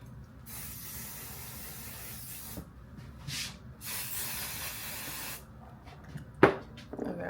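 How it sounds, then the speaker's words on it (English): Hairspray hisses from an aerosol can in several close bursts of about one to two seconds each, separated by short pauses, with no talking over them. "Let me actually do a little more hairspray."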